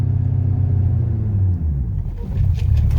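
A Shelby GT500 pulls away in first gear with a little throttle, its engine a steady, loud low rumble close by that dips briefly and then picks up again as the car moves off, with no talking.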